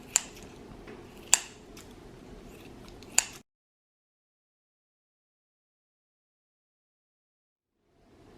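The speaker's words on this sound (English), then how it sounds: "I use kitchen scissors to cut up my bacon" Kitchen scissors snipping through bacon, three sharp distinct snips spaced about a second or more apart over a low background rustle, followed by long silence.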